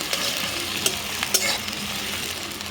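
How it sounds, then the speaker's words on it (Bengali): Onions frying in a pan over a wood fire for chicken curry, a steady crackling sizzle with a couple of sharp spatula scrapes, close and continuous, no talking. "পেঁয়াজটা হালকা লাল করে কিন্তু ভাজা হয়ে গেছে আমার"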